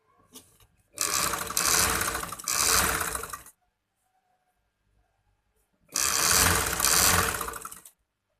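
A sewing machine stitches lace onto kurti fabric in two loud, close runs, one of about two and a half seconds broken by a brief pause and a later one of about two seconds, with near silence between them.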